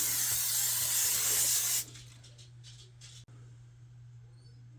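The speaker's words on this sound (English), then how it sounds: "Spray your sheet pan" A steady, close hiss of aerosol cooking spray onto a sheet pan lasts nearly two seconds, then stops abruptly, leaving quiet room tone and a faint click.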